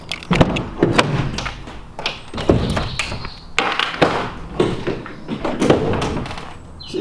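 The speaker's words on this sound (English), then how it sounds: "It has smash locks, so you have to use this special fob to get the door open." A DPD delivery van's smash-lock door is worked open with a fob, giving a series of close, loud thunks, clunks and metallic taps with no talk.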